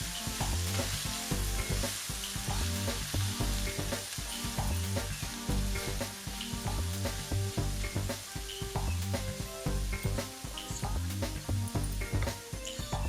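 Squid (bondas) sukka fries and roasts in a pan with a steady, dense sizzle and repeated scraping stirs, loud and continuous throughout with no talk.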